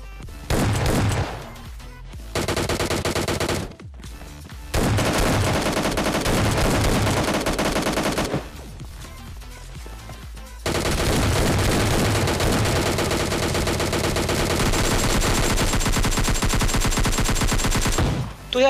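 Rapid automatic gunfire from PUBG Mobile Lite gameplay, loud and close, comes in sustained rattling bursts separated by brief near-silent gaps, then one long unbroken stretch of heavy shooting.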